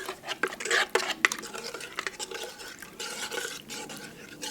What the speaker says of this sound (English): I'm going to stir this up to get that sugar dissolved and get that yeast incorporated